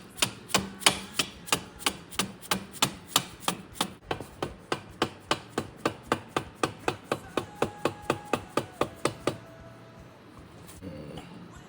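A hammer taps a swingarm pin into a Honda Grom with about thirty sharp, evenly spaced metallic knocks, close and steady, before falling quiet near the end.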